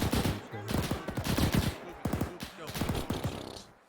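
Gunfire in a WWII D-Day Juno Beach game rattles through a house wall in fast, close bursts of shots, with brief gaps between volleys and voices talking over them.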